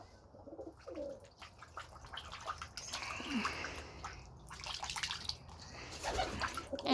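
Spray from a garden hose patters and hisses unevenly over pigeons bathing in a loft, with fluttering and soft cooing mixed in, moderately close and swelling in several waves.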